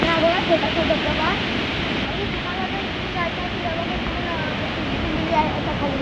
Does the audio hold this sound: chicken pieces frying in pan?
no